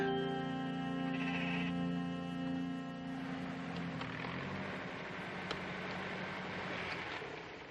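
Sheep bleating over a steady low drone, the calls harmonic and wavering at first, then fading into a rougher, noisier background.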